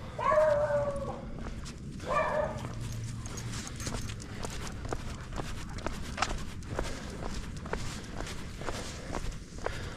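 Highly trained huskies moving along a mountain trail, with brisk repeated paw steps and light clatter at close range, plus a couple of short dog whimpers early on.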